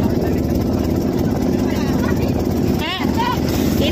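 A trawler's engine drones loud and close on a river, a steady low mechanical rumble with wind buffeting; a voice briefly rises over it near the end.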